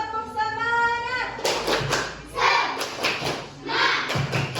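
At a children's Sunday catechesis gathering, a young voice sings briefly before a group of children bursts into several rounds of loud, rhythmic unison clapping with bursts of cheering in between.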